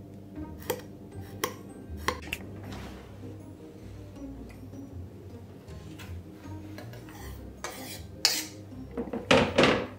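Clinks and knocks of a pot and utensils as milk and vanilla beans go in, with a soft pour and a louder clatter near the end.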